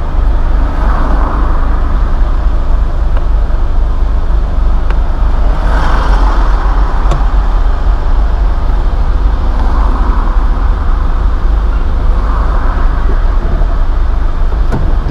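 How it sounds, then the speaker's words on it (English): Steady road traffic on a one-way road into Port of Spain, Trinidad, heard from inside a moving vehicle: a continuous low engine and tire rumble with passing cars swelling and fading, loud throughout and without talk. "I don't know what's causing all this traffic"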